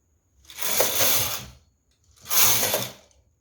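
A knitting machine carriage is pushed across twice to knit two rows, giving two clattering mechanical passes of about a second each with a brief pause between, close and fairly loud.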